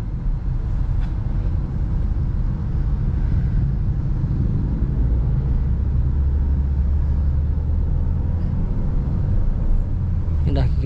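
Car engine in a POV drive steadily gains revs as gas is added, a continuous low rumble heard from inside the cabin under road noise.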